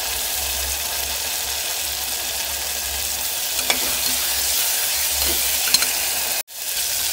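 Cooked black-eyed peas sizzle and crackle in a hot pan as a spoon stirs them, a steady frying hiss with occasional scraping clicks, close and continuous until a brief dropout near the end.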